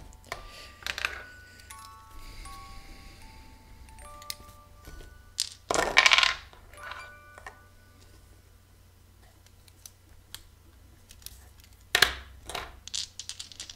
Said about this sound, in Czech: jdu hodit kostkami a spočítáme si všechny hody